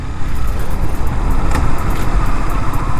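Honda CBR 150R sports motorcycle ridden along the road, a steady engine and wind rumble heard from the rider's position, loud and continuous with no talking.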